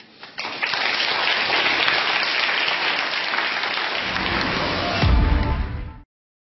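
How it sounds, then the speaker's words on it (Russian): A studio audience on a television talk show breaks into broad, steady applause, a dense wash of clapping that holds evenly for several seconds, swells briefly near the end and then cuts off abruptly. "Аплодисменты."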